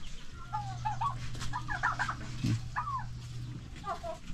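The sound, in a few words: chickens clucking outside their coop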